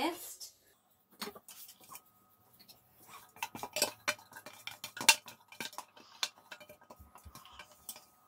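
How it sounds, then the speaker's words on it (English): Lemon zest scraped from a slightly wet bowl with a utensil, a run of small, close clicks and scrapes of metal on the bowl, quiet and irregular, with talking alongside. "And I'll scrape out the lemon zest."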